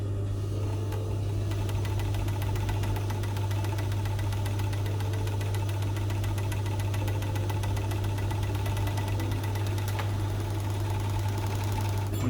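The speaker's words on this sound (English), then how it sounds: "you just overlock from the beginning, and you just sort of guide the fabric as you are sewing" An overlocker sews a fabric seam, running as a steady mechanical hum with a fast, even chatter that continues unbroken and fairly loud for the whole stretch.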